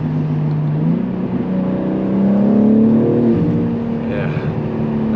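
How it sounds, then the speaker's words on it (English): A JB4-tuned BMW G80 M3 accelerating, its intake and engine note rising in a loud steady drone from inside the car, swelling then easing off, with no talking. "I don't know how well you guys can hear the intakes on camera, but they sound so good"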